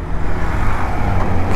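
Heavy traffic rolls along the four-lane NH66 Mumbai-Goa highway near Sangmeshwar as a loud, steady low engine and road rumble with no breaks.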